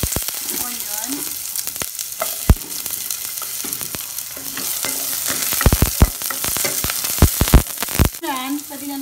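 Chopped onion dropped into hot oil with garlic for a squash soup, frying with a steady sizzle and occasional clacks of a spoon stirring against the pan, close and fairly loud.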